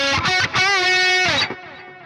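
Electric guitar runs through a Bogren Digital MLC S_Zero amp sim with a dotted-eighth ping pong delay, playing a short, saturated, distorted phrase whose repeats bounce and ring out for a moment after the notes stop.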